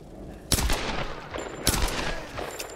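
Gunfire in the video game Tomb Raider 2013: two sharp, loud shots about a second apart, each trailing into a rumbling echo, with quieter game ambience between them.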